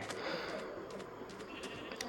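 Sheep bleating inside the Minecraft video game, short repeated bleats over a steady, dense game background with no clear talk.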